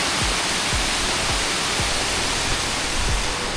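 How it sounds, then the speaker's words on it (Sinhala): Overflow water from a full power station tank rushes toward Nalagana waterfall in a loud, steady roar that fills the whole clip, with a few soft low thumps underneath. "දැන් මේ ටැංකිය පිරීලා වැඩි. මේ වැඩි ටික මෙතනින් යනවා."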